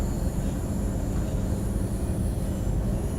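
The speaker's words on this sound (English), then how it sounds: "I thought it was appropriate to put on Britain's controversial APT tilted train, high-speed train on today." Britain's APT tilting high-speed train runs in Train Sim World 3, a steady, loud rumble of wheels on rail and rolling stock noise with a faint high whine, unbroken throughout.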